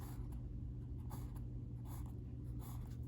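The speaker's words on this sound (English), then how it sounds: "So we're going to write 6" A pen or marker writes a numeral by hand, giving a few short soft scratchy strokes over a steady low background hum.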